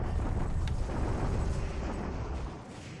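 Artillery bombardment in a war strategy game: a dense, booming rumble of explosions fills the span, loud and continuous before fading slightly at the end, with no voices.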